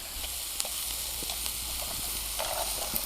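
Onions and peppers sizzle steadily in a pan while being stirred, a constant frying hiss broken by small pops and scraping clicks, close and alone without any voices.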